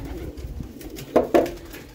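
Homing pigeons coo in their loft, two soft, close coos in quick succession over quiet background noise.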